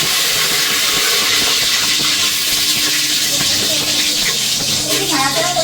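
Washed whole garam masala spices drop into hot oil already crackling with cumin seeds, giving a steady close sizzle and hiss that runs the whole time, with a few faint clicks and pops on top.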